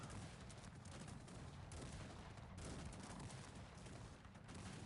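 Canister shot from cannons in the strategy game Cossacks 3 rumbles through a dense, continuous battle din of gunfire and hooves, quiet and steady throughout with no talk.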